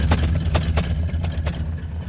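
An old Chrysler Newport engine idles after 22 years unused with a low, steady rumble and faint rhythmic ticking, close by and alone.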